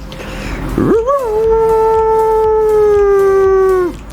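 A man in Lahore imitates a dog's mournful night howl: a rising whine that swells into one long, steady, loud howl before cutting off.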